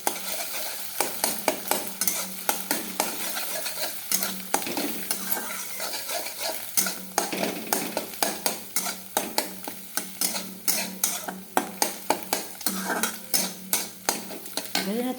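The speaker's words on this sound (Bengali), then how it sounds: "ডিমটা একটু ভেজে নিলাম।" Egg frying in a pan at home while chow mein is being made, with a continuous sizzle under frequent sharp scrapes and clinks of a utensil against the pan, close and fairly loud, no talking.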